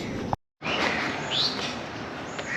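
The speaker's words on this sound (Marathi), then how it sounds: "पक्ष्यांचे आवाज येत आहेत." Birds chirp near the Umananda temple in Guwahati amid green surroundings, a few faint, brief tweets over a soft outdoor hiss, broken by a short silent gap.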